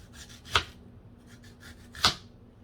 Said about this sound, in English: I have onion that I'm chopping up now